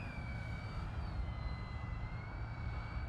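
Light airplane flying slowly with full flaps on a calm day, a steady droning engine hum with a faint high whine running throughout, continuous and even, with no talking.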